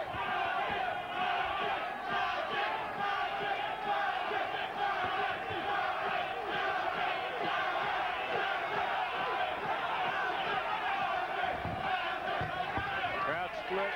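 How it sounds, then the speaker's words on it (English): A split boxing crowd at a WBO middleweight title bout chanting the names Otis and Bradley: a dense, loud, continuous roar of many voices with rhythmic chanting swells throughout, heard from inside the arena. "Some chanting Otis, Otis, Otis. Other side chanting Bradley, Bradley, Bradley."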